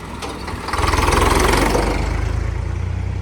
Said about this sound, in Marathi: आता ट्रॅक्टर आलाय